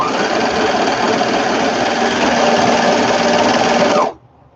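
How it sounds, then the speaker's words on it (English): A sewing machine stitches fabric for a sewing container in one loud, continuous whirring run that stops abruptly near the end, leaving near silence. "I'm really glad that this sewing is going much faster than the cutting did."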